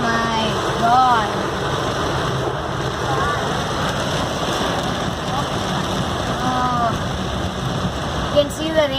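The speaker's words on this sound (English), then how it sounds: "You can see the rain in the light." Heavy rain pours on a city street at night, a steady wash of downpour and splashing water mixed with passing engine noise, while voices speak intermittently over it.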